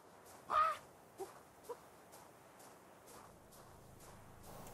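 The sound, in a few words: creature squawking in ARK video game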